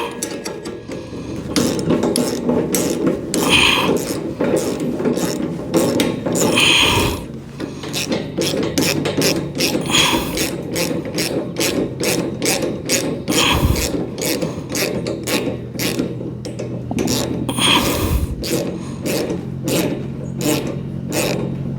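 A ratchet wrench removes a tightened piece from a sheep feeder, clicking in rapid, steady strokes close by, with brief pauses and some rubbing of metal between bursts.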